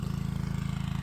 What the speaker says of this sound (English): Sorry about the noise, but we're irrigating fertilizer into the